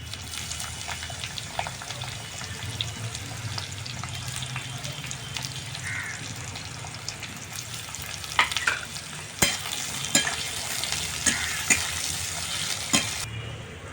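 Three large finely chopped onions fry in oil with cumin, dried red chilli and bay leaf for mutton leg kosha, a steady close sizzle with stirring scrapes and a few sharper clinks toward the end.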